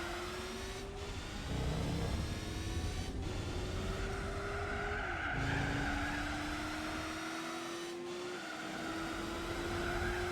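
A Mazda RX-7 laps a track in Gran Turismo 4, its engine note rising through the gears in repeated upshifts while tires squeal and skid, loud and continuous with no voices.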